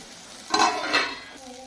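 Onions frying in a pan, a soft steady sizzle with two brief stirring scrapes in quick succession, close and fairly quiet.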